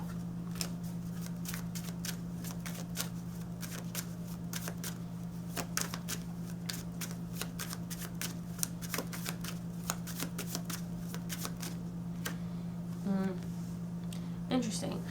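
Tarot cards being shuffled by hand, a long run of soft riffling flicks and slaps close by over a steady low hum, with occasional quiet pauses.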